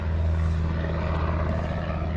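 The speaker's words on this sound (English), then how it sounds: "is a helicopter" A helicopter flying over a food forest, its steady low rotor and engine drone filling the clip at close range with a constant, even level and no speech.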